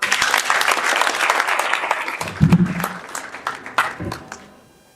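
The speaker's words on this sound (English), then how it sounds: "let's clap for him." An audience at an economics summit claps enthusiastically, a dense burst of applause with a few louder claps, tapering off toward the end.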